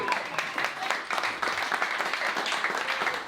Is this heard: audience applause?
yes